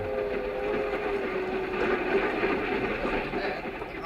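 A commuter train sound effect from an old radio drama rumbles along steadily, a continuous clattering roll with a humming tone on top and a voice speaking over it.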